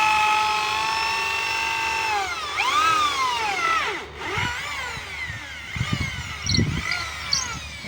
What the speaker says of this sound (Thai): เจาะหูใส่สายเอาไว้หอยได้เนี่ย